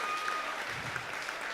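Audience applause at a variety show for the performers, a steady, fairly faint crowd clapping that continues evenly, with a faint murmur of voices underneath.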